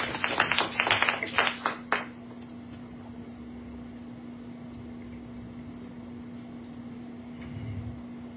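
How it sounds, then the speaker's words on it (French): A church congregation claps loudly in praise for about two seconds, a dense burst of hand claps that stops abruptly, leaving a steady hum in a quiet room. "acclamez d'abord très fort pour le Seigneur"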